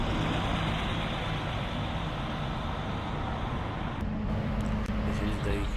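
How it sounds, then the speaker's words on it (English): A right-bodied Scania bus on the Whitehaven Harbour park-and-ride service makes a steady, close engine and road rumble that holds evenly throughout, with a brief clatter near the end. "This right-bodied Scania is on the park and ride scheme, which runs every 15 minutes."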